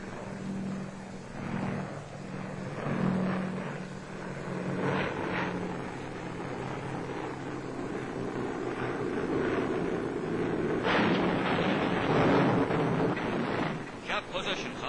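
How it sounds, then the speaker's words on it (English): B-24 bomber planes fly through layers of overcast toward a target in the Pacific, a dense, continuous engine roar with swelling surges, recorded with a rough wartime quality. "Air Force cameras follow our planes through layers of overcast as they draw near the target."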